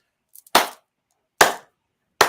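Three sharp, isolated claps as a sound effect, loud and dry with silence between them, spaced nearly a second apart and preceded by a couple of faint ticks.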